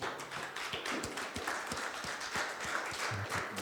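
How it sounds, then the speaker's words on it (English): A conference audience applauds at the end of a security talk, a loose spread of moderate hand claps heard at a slight distance for a few seconds. "Then give an applause to Mert."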